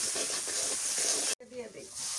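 Garlic paste goes into a hot pan of oil with turmeric powder, giving a strong continuous sizzle and hiss that cuts off abruptly, then resumes more faintly with soft stirring sounds.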